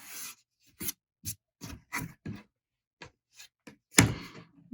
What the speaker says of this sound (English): And then I'm going to trim.